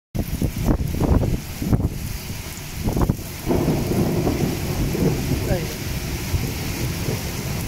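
Thunderstorm with heavy rain in the evening at Bish, Jazan: a few sharp thunder cracks early on, then a steady loud roar of downpour with wind buffeting the microphone throughout.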